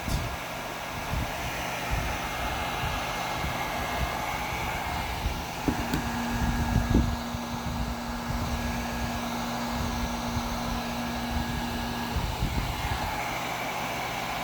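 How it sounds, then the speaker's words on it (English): Two heat guns drawing about 2600 watts from a portable power station blow a steady, loud airy roar that holds even throughout, with a faint tonal hum joining midway. "Two heat guns running, 2600 watts."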